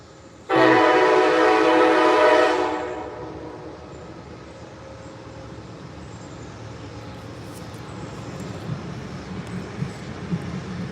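Freight train passing through a small town. One loud horn blast of about two seconds opens, followed by a quieter ongoing rumble of rail cars with faint clanks.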